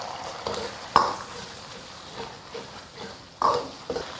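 Sichuan doubanjiang stir-fried in a little oil over low heat with ginger, scallion and garlic for a braised pork dish: quiet sizzling broken by a few sharp clatters of the spatula against the wok, with no voices.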